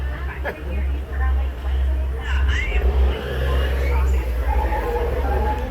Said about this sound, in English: This is a real truck. I am really driving it, and those are real potholes out there.